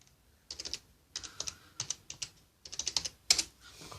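Keys clack in quick bursts on an Alienware x51 computer keyboard, with sharper spacebar taps among the clusters, close and fairly quiet in a still room.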